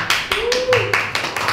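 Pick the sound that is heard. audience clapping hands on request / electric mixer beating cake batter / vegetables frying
audience clapping hands on request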